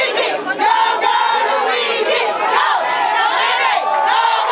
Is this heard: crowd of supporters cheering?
yes